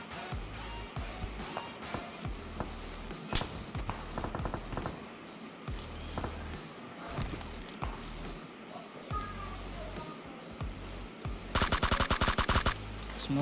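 Gunfire in the PUBG Mobile battle royale game: rapid automatic bursts and single shots crack repeatedly across the clip, ending in a dense, loud sustained volley.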